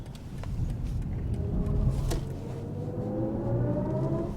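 Rear-wheel-drive car taken fast through a turn in sport mode, heard from inside as a steady low engine and road rumble with a rising drone of tyre and drivetrain noise, continuous with no talk.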